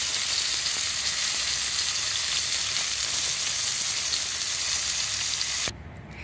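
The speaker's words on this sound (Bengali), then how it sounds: "দেখুন বন্ধুরা, মাছটা কিন্তু আমি লাল লাল করে ভেজে নিয়েছি" Reddened fish sizzling in hot oil in a pan, a loud, dense, steady crackling hiss that stays constant for several seconds and then cuts off abruptly near the end, with no voices.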